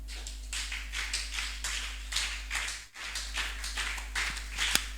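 A congregation applauds the Lord at a church service. The clapping is continuous and fairly distant, forming a dense patter over a steady low hum, with one brief dip partway through.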